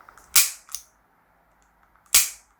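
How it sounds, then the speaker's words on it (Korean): A Marushin Walther PPK/S ignition-type model gun fired single action, giving two loud, sharp cap bangs about two seconds apart, with a lighter mechanical clack of the slide just after the first, all close and alone. "슬라이드를 후퇴시켜서 싱글 액션으로 격발할 수도 있고요"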